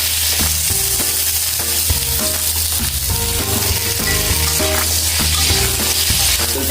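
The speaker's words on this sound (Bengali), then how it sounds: "এবারে আলু সহ বাকি আলু পেঁপে যে বাকি সবজি সেগুলো সব একবারে ভেজে নেব" Potatoes, papaya and other vegetables frying in a pan, giving a loud, dense, continuous sizzle heard up close with a steady droning hum beneath it and no voices.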